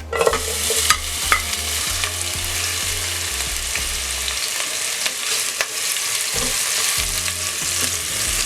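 Onions sizzle and crackle steadily in hot cooking oil, with occasional stirring clatter and a low rhythmic hum underneath.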